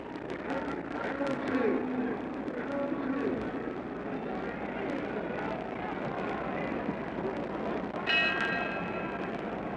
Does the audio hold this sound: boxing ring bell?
yes